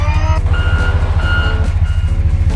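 Loud, regular electronic reversing beeps from a toy construction truck, pulsing steadily over a low engine-like rumble, with no voices.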